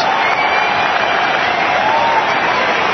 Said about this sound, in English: Listen to the applause around Allianz.